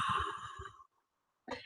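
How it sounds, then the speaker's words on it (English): A single slow pursed-lip exhale through the mouth, like blowing out a candle, is a soft airy breath heard close and alone for under a second, then a brief second breath sound after a pause. "It's called pursed lip breathing, and you breathe in and then you make your lips like you're going to blow out a candle"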